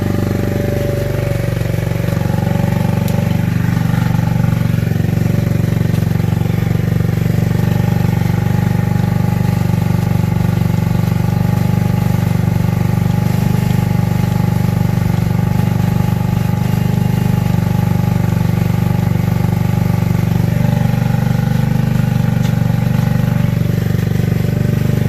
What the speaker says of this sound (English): let's go on this bike and let's go for a ride